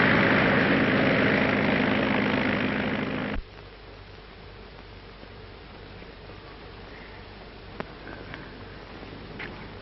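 A propeller plane drones loudly overhead for a few seconds, then fades abruptly to a low distant hum over open water, with a few faint clicks and knocks afterwards.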